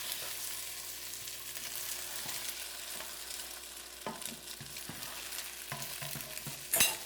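Tofu and eggs pushed around a hot frying pan, a continuous close sizzle with scraping spatula strokes and a few sharper clicks toward the end, without talk.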